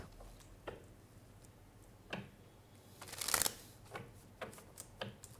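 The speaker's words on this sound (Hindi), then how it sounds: "कुछ ऑरिकल्स लेते हैं, ऑरिकल कार्ड्स" Oracle cards are shuffled close by in soft, quiet riffling bursts, with a louder flurry in the middle and scattered light taps around it.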